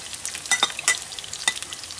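Chili stir-fried in a pan for nasi mandy ayam, with sharp sizzling crackles and scattered scraping stirs that come in short bursts, close and fairly quiet, with no talk.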